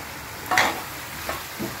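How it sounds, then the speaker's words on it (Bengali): Chicken frying with coriander powder in a pan, heard as a few short bursts of sizzle and stirring scrapes separated by a steady low background hiss, with no talking. "এবার আমি এইটাকে একটু ভালো করে কষে নেব।"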